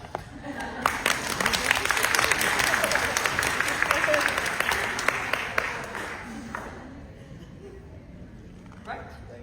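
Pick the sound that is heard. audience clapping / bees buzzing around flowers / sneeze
audience clapping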